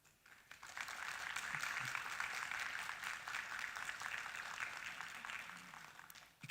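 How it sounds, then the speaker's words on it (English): A crowd applauds steadily for several seconds at a university pinning ceremony, a dense, even patter of many hands clapping at a moderate distance. "You kind of jumped the gun on that clap"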